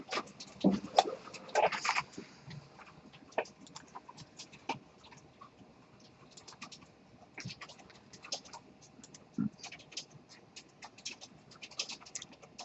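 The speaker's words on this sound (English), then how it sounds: "So I hear people typing." Soft, irregular clicking of computer keys, several people typing at once in a quiet room, faint and steady with occasional louder taps.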